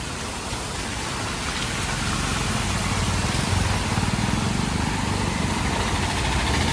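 Rain-swollen water from Nadunthodu flows hard toward the Manimalayar at Mundakayam, a thick, constant rushing hiss heard from a bridge. A low rumble beneath it swells slightly midway, and no one speaks.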